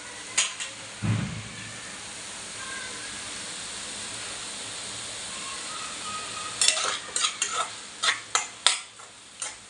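Tomato, onion and kokum stir-frying in a pan for a dried bombil fish chutney: a low sizzle, then clusters of spoon and pan knocks and scrapes near the end, no talk.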